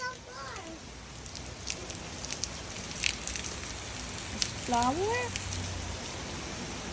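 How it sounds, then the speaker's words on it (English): Steady rain falls outside with a soft, continuous hiss and scattered drip taps. An adult and a young child chat briefly over it. "It's beautiful rain outside."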